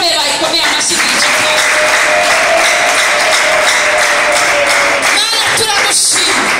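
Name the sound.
congregation applauding in church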